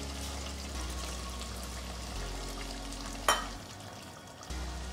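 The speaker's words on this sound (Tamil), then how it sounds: "விட்டுட்டு கொஞ்சமாக தண்ணி சேர்த்து" Water poured into simmering chicken gravy in a pan, a steady hiss and trickle with a brief splash partway through, close and continuous.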